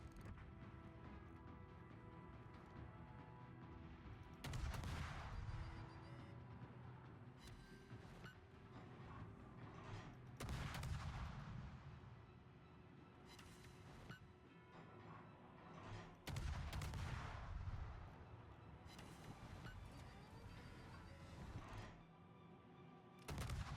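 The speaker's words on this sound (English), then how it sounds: "Probably also getting shot at, I imagine." Bursts of video game gunfire crack repeatedly over a dense, continuous battle soundscape, with sharp loud volleys recurring every few seconds amid rumbling mechanical noise.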